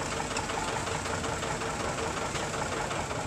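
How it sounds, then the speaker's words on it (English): Old electric-start farm tractor engine running steadily nearby, a dense, continuous mechanical clatter with a low rumble and no speech over it. "These were a nice old tractor. This one's got electric start."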